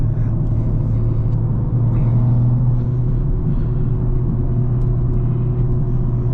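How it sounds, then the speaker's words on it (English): A big-turbo BMW M340i with a custom transmission tune pulls hard from inside the cabin, a loud, steady engine drone holding constant without pauses or talk. "And the turbo sounds are fantastic."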